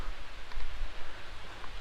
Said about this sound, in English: The rain is absolutely coming down now.